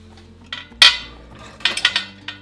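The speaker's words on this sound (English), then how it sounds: "We're gonna load up our canner" Glass jars clink and knock as they are loaded into a pressure canner for raw-pack whole chicken, a sharp clatter near the start followed by a quick run of lighter taps and rattles.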